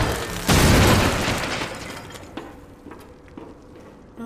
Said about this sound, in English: Let's back up a little bit before we get caught in that explosion